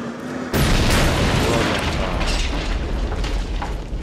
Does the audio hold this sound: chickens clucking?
no